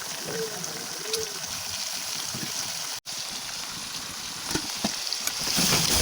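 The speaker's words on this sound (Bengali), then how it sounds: "মশলাগুলো একটু ভাজা ভাজা হয়ে গেলে তারপরে হাঁসের মাংসগুলো" Duck meat fries with spices in a pan, giving a continuous broad sizzling hiss that drops out for an instant and then swells louder toward the close, heard without any voices.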